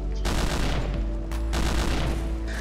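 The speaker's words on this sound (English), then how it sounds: "Everyone shoot to the MG." Bursts of gunfire are aimed at a machine-gun emplacement in the video game Hidden & Dangerous 2: loud rapid volleys with a brief gap midway, then more sustained shooting.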